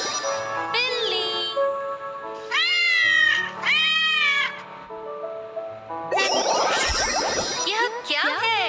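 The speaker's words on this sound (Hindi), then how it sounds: "बिल्ली।" A cat gives two clear, close meows in quick succession, surrounded by twinkling chimes and light musical effects.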